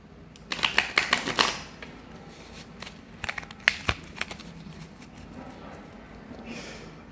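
Calavera tarot card deck shuffled by hand, giving quick bursts of crisp riffling and flicking card clicks in several separate runs, close and fairly loud over a quiet room.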